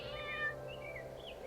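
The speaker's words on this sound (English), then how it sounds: "Look, a kitten!" A kitten mews softly several times, thin, rising calls that are faint against a low background hum.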